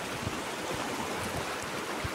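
A clear river flows over small stones, a steady broadband rush of water, close and continuous with no talking.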